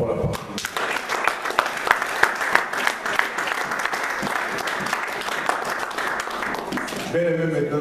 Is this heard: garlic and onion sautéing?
no